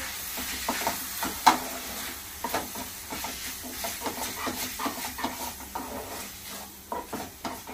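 Noodles stirred in a pan with red chili sauce and tomato ketchup, a run of repeated scraping and clattering strokes over a soft sizzle, close and moderately loud.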